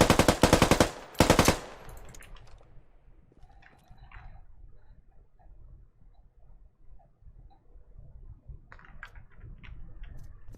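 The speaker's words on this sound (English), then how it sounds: "A little bit of a kick to this gun as well, but can put some fire down range here" A 5C rifle fires in the video game Squad with a Halo mod. Two short, loud automatic bursts open the clip, followed by quiet game ambience and faint distant clicks.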